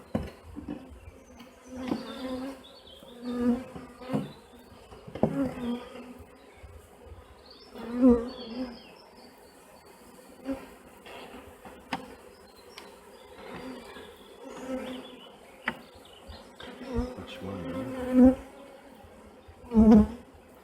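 A honeybee swarm being collected into a hive box fills the air with a constant close buzzing hum, individual bees droning louder as they pass near, with occasional soft knocks and handling sounds.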